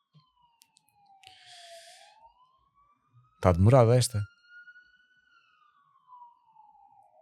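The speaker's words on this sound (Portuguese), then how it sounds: "Ambulância, já." An ambulance siren wails faintly outside as it passes, its steady rising and falling tone running under a short burst of nearby talk.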